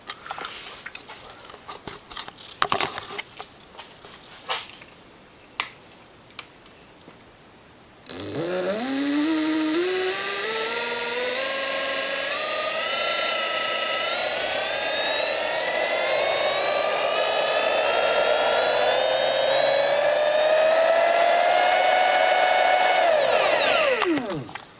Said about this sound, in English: I'll spin it up through the full range so you can hear the motor.